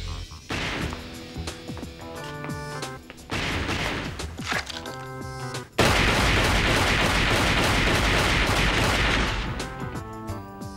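Heavy gunfire erupts in loud repeated volleys: scattered bursts of shots, then a dense, continuous barrage from about the middle onward that slowly thins out toward the end, with no talking.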